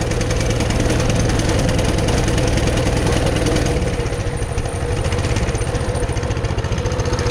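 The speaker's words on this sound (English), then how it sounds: "Warm up a little bit. Choke's on right now." A Coleman CT200U-EX mini bike engine idles while warming up with the choke on, a loud, steady chugging close by with a slight dip in level midway.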